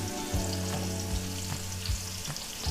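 Fish fries on high flame in coconut oil, a loud, close, continuous sizzle and crackle with occasional spits and pops.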